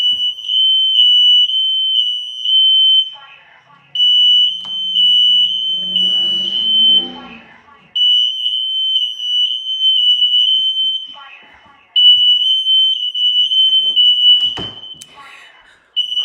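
A kitchen smoke alarm, set off by smoke from searing ribeye steaks, sounds a loud shrill beep in long repeated bursts with brief gaps, while a person talks quietly in between.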